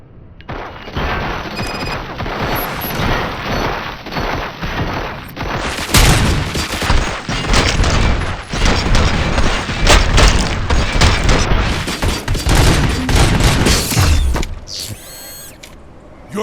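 Sustained heavy gunfire in the RoboCop: Rogue City video game, dense rapid automatic shots and booms layered with mechanical clatter, loud and continuous before briefly easing at the end.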